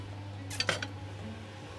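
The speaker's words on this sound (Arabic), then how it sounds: "طيب نقلب الرز بتاعنا بقى" A spoon scrapes and clinks against a pot while dill rice is stirred, giving a short cluster of metallic knocks in an otherwise quiet kitchen with a low steady hum.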